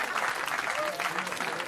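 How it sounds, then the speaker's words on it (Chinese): Mission control team at NASA's Jet Propulsion Laboratory after the Juno spacecraft's successful orbit insertion at Jupiter: dense, sustained applause with cheering from a room full of people, close and loud throughout. "爆发出热烈的欢呼声。"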